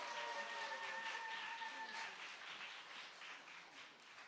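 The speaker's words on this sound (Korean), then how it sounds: "더 큰 박수로 맞아주시면 너무 감사하겠습니다." A church congregation at a Christmas service gives a dense, steady round of applause for a child soloist, the clapping broad and continuous, with a faint tonal whine in the first half before it eases slightly.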